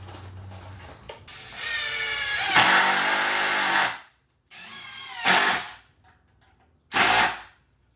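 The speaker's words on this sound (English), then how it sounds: "Drill your 2 pilot holes." A power drill bores pilot holes into the center of a 2x4 wooden board in several whining bursts. One long run is followed by two shorter ones, with brief silences between them.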